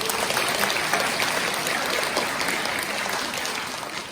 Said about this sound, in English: How about we give Jack a big round of applause?